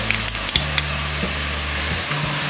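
Turmeric, cumin and red chilli powders stirred into a frying pan, with a loud steady sizzle and a few sharp spatula scrapes and clinks at the start, no voices.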